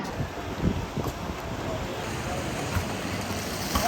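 Rushing water and wind on a rapids raft ride at California's Great America: a continuous broad wash of water with a faint, muffled voice now and then.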